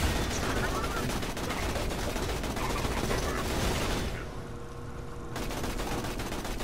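Turret gunfire in a chaotic video game battle: dense, continuous automatic shooting and explosions fill the clip, briefly dropping away before resuming, loud and close.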